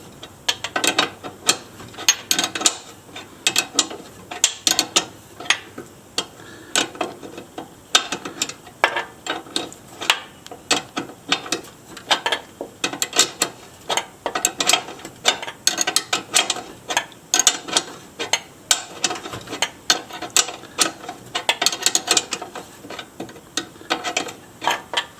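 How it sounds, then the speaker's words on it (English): A ratchet ring spanner clicks in rapid, uneven bursts of sharp ratcheting ticks, close and fairly loud, continuing for the whole stretch with brief pauses between strokes. "Ratchet ring spanner will be really handy."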